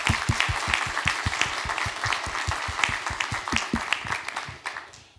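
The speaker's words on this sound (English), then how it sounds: "Give her a round of applause." A symposium audience at a farewell event breaks into a round of applause, with dense, rhythmic clapping that stays strong and then thins and fades near the end; no one speaks over it.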